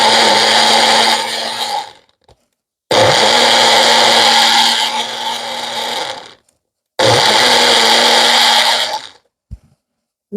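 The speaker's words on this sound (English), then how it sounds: "Make sure you blend a couple of" A kitchen blender whirs loudly through a pineapple smoothie in three separate pulses of about two to three seconds each, with brief silent gaps between bursts.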